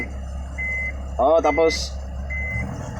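A truck's reversing alarm beeps in two steady, evenly spaced tones over a constant engine rumble, with a brief spoken word in between.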